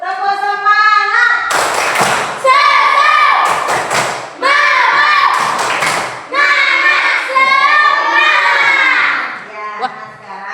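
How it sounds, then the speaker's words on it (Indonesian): A class of children in an Indonesian primary school lesson performs a rhythmic spirit-clap routine, sharp hand claps and thumps falling in patterned bursts under loud, close chanting voices. "Kita ulang tepuk semangat dulu. Tepuk semangat."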